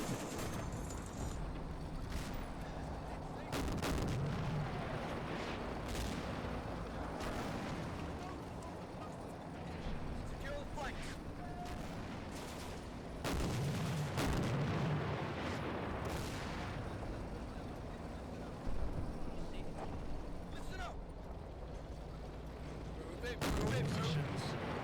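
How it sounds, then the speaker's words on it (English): Game battle in Combat Mission: Afrika Korps, with scattered rifle shots and heavier artillery booms repeating irregularly over a continuous rumbling backdrop, with talk faintly present throughout. "You get a little bit of shooting in."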